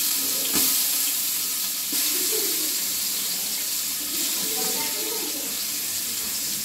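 Water runs steadily from a tap into a pan holding crushed ginger, garlic and green chilli while making pulao, a continuous hiss with faint bird coos in the background.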